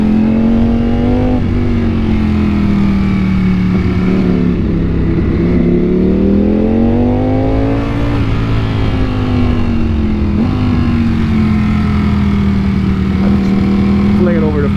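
A Ducati Panigale V4 superbike's engine drones loud and steady, its pitch swelling and easing through the gears, with wind rush throughout.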